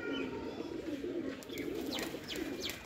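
A young Rampuri pigeon of a Baloch breed coos in soft, repeated low calls, with faint chirps from other birds and steady background noise.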